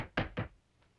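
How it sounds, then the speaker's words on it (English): Two sharp knocks on wood in quick succession, close and clear, followed by a faint third tap, in a quiet indoor sitcom scene. "Knock on wood."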